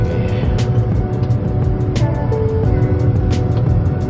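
Steady broadband rumble of a car driving along the Gumitir mountain road between Jember and Banyuwangi, heard from inside the cabin, with a few faint ticks and clicks over the continuous road and engine noise.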